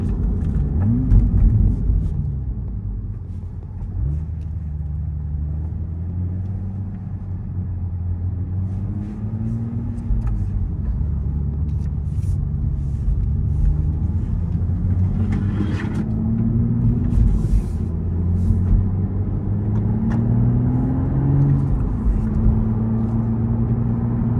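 Engine of a 2026 Toyota GR Supra Premium with a six-speed manual revs steadily and loudly from inside the car, its pitch rising and falling through linear pulls and rev-matched downshift blips with no talking.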